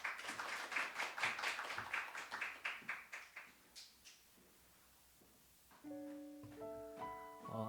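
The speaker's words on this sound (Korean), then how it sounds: "박수로." A church congregation at a Sunday service applauds in rhythmic bursts that gradually fade away, followed by soft sustained keyboard chords.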